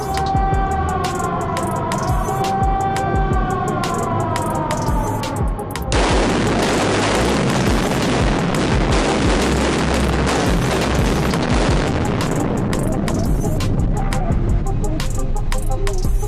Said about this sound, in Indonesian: pemimpin peledakan akan melakukan proses firing.